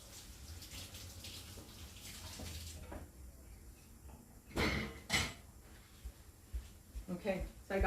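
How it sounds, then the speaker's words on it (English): Tap water runs into a kitchen sink while organic green onions are washed, a steady splashing stream for about three seconds. Clunks and handling knocks of dishes or cabinets follow near the end, with no talk. "So I'm going to get these. I'm going to wash them real quick."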